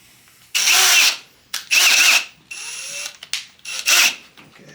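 A power drill taps a thread into a BMW M54 2.5L engine, whirring loudly in five short bursts of roughly half a second to a second each, separated by quiet pauses with faint ratcheting clicks.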